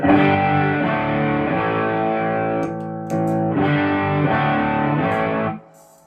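A gritty electric guitar through a Nobels ODR-1 overdrive pedal strums sustained chords, briefly stopping and resuming, then fading out at the end.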